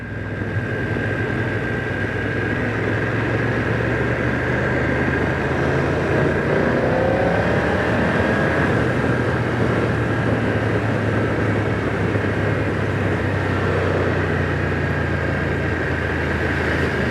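A 2025 BMW F900R motorcycle on the move gives a steady engine hum beneath a broad rush of wind, continuous and fairly loud, with no one talking.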